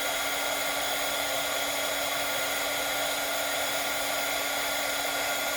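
A heat tool melting embossing powder on die cuts blows a constant, loud, even whir like a hair dryer, with a steady tonal hum and no break or talk.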